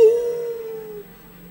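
A voice imitates a dog howling, one sustained howl that starts loud and slowly fades over about a second, heard alone.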